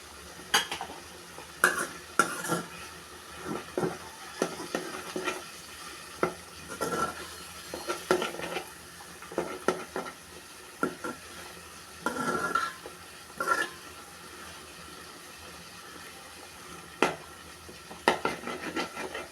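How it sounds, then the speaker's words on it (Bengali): Potatoes and onions cook in mustard oil for a tangra fish chorchori, a low sizzle broken by repeated clinks and scrapes of a spoon stirring against the pan. "এখন কষিয়ে নিব আলু পেঁয়াজ সব কিছু"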